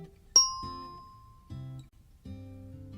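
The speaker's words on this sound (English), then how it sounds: "Suddenly, there was a roar of steam and a clang of bells." Bells ring as an emigrant steamship, the City of Baltimore, departs: one bright metallic ding rings out and decays slowly, followed by three lower, hollow tolling strikes at uneven intervals, near and fairly clear.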